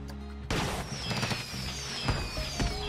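Fireworks display in the Planet Coaster theme-park game, bursting in a dense volley of bangs and crackles with whistling rising tones overhead, loud and continuous after a short quiet start.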